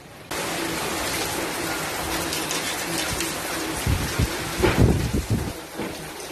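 Strong storm wind from the approaching Typhoon Rolly roars steadily with heavy rain, swelling into louder gusts and buffeting near the end, no one speaking.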